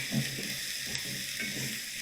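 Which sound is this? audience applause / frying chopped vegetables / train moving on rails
frying chopped vegetables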